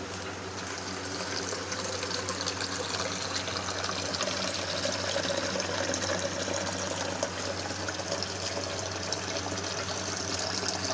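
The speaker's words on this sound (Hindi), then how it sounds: "तो अभी हम पानी डालते हैं।" Water pours into a jug in a steady, soft trickling stream that runs without pause, fairly faint and with no talking over it.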